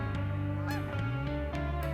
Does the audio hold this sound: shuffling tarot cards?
no